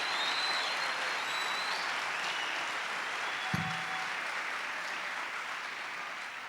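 Steady applause from a church congregation at a Spanish-language sermon, a thick, even wash of clapping from many people with a single sharp knock partway through.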